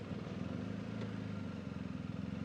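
Steady motorcycle engine hum while riding on a road, a continuous low drone without pauses.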